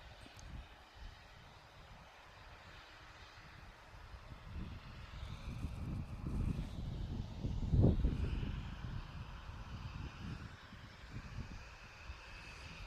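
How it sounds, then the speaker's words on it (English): Emirates airliner taxiing toward runway 23 right at Manchester Airport, a low steady distant engine rumble that swells in the middle and then eases, with no talk over it. "Emirates is now making its way over towards 23 right"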